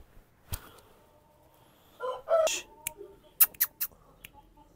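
Shamo chickens let loose on a farm give a few short, close clucks and squawks in quick bursts, with scattered sharp noises between them and a quiet background.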